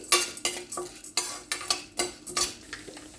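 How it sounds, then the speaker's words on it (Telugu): Chana dal (split chickpeas) frying in hot oil in a pan, with a utensil stirring and scraping in repeated rhythmic strokes over a steady sizzle, close and fairly loud with no talking. "అది వేడవ్వగానే శనగపప్పు అండి అది కొంచెం వేగాలి"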